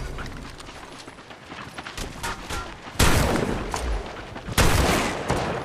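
Gunfire in the Apex Legends video game: a run of rapid shots builds into two loud, close, heavy bursts with short pauses between volleys.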